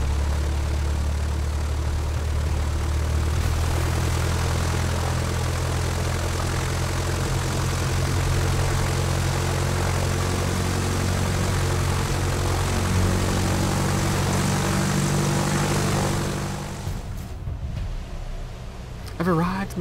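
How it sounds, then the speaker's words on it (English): A propeller airplane drones steadily in the adventure game Mystery Trackers: Black Isle, a loud, continuous engine hum that holds for most of the stretch before fading slightly near the end, with a voice talking over it. "we're about to fly the plane"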